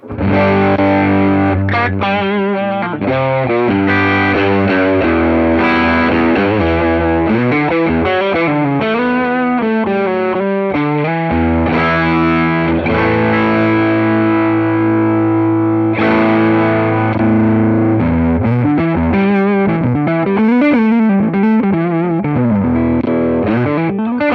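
An overdriven electric guitar through an Ibanez TS9DX Turbo Tube Screamer pedal in hot mode plays a continuous riff of chords and single notes with thick, gritty distortion, loud and alone.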